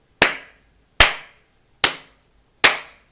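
Four single sharp hand claps, close and loud, spaced evenly about a second apart with silence between, used to trigger a sound-sensor microphone module.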